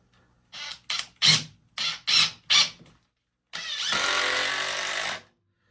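A Dewalt DCF850 brushless impact driver driving a screw: five short, loud hammering bursts in a quick row, a pause, then one longer steady whirring run.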